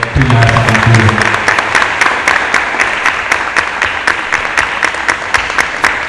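Church congregation clapping after a call to applaud during a Portuguese sermon; dense, steady applause fills the room at full volume, with a voice briefly heard at the start.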